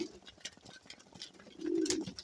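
Pigeons in a loft coo softly, with a few low throaty coos and brief chirpy bird sounds over a quiet background, the loudest coo near the end.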